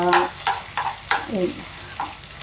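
Potatoes frying in a pan for aloo fry and being stirred, with about five rhythmic scraping strokes of a spatula over a soft sizzle, close and fairly loud, with no speech.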